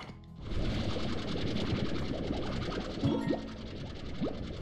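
A vacpack vacuum tool in the Slime Rancher video game, producing a sustained whirring suction hum with quick springy pops layered over it, loud and continuous for several seconds.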